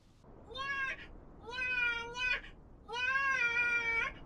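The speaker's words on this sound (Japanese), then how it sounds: "猫。" Cat meowing in an anime: three drawn-out, fairly quiet meows in a row, the last one the longest, with no voices over them.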